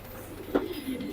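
A racing pigeon of a champion bloodline gives a soft, low coo close by, brief and faint, over a quiet room background.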